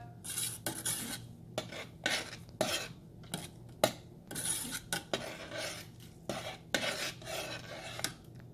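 A spoon scraping and clinking against a metal pot while oats sprout soup with vegetables is stirred, in a steady series of close, sharp strokes with short pauses.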